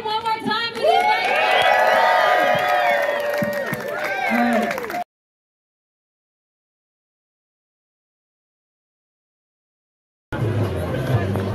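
A crowd at the Boston Bruins Fan Fest cheers and whoops loudly for about five seconds, with voices shouting over the roar, then silence, before noisy crowd sound returns.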